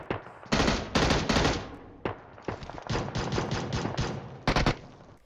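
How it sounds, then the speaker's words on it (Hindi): Rapid bursts of automatic gunfire from an M-series rifle in the mobile battle-royale game PUBG Mobile: several sharp, loud volleys separated by brief pauses, with clipped single shots between them. "अब यहाँ पे मैं एक एम सोलो से तीन निशाने पेल देता हूँ"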